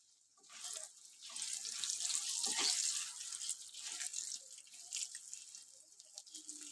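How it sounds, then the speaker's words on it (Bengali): Tap water runs steadily into a pot of rohu fish and eggplant curry, a close, bright splashing stream that swells and then eases off, with no talk. "চলো সামান্য জল দিয়ে দিই।"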